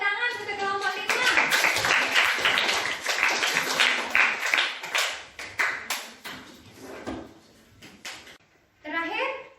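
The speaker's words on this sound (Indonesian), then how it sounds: "tepuk tangan untuk kelompok 5" Classroom clapping for a student group, starting after a brief spoken line, rapid claps from children that thin out into scattered taps before voices return.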